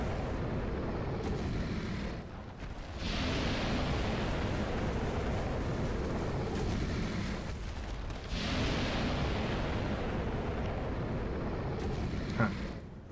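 Boss firing a miasma attack in Dark Souls, a loud roaring blast of rushing, eruptive noise that holds for several seconds, breaks briefly, then surges again into a long sustained wash.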